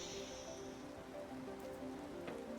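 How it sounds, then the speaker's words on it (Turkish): Steady rain falls in The Planet Crafter, a continuous soft hiss of drops on the surface, faint and even throughout with no voices. "Yağmur yağıyor."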